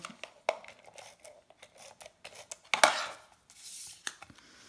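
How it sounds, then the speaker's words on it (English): Scissors cutting and trimming paper for a curtain fold card, a few soft snips and rustles at close range, with one sharper crisp cut near the middle and brief paper handling afterward; no talking. "I'm going to glue it down and then cut it, and then I'll just trim around it."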